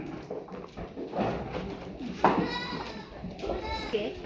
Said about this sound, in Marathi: आता हे सर्व बकरे आहेत आणि बकऱ्यांची क्वालिटी पाहू शकता.